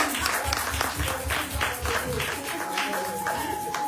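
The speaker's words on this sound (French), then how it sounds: "Applaudissez s'il vous plaît, applaudissez s'il vous plaît." Audience clapping at a youth event, a run of uneven claps with crowd murmur and some voices underneath, fading a little toward the end.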